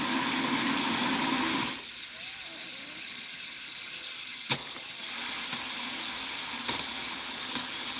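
Water runs from a tap as a steady rushing hiss that drops in strength partway through and carries on more quietly, with a couple of small knocks.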